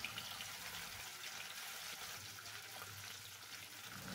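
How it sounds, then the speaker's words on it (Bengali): Pieces of silver carp, rubbed with salt and turmeric, frying in hot oil: a steady, dense crackling sizzle that stays even and fairly close throughout, with no voices. "তেল ভালো করে গরম হয়ে গেছে, এবার মাছগুলো দিয়ে দিচ্ছি"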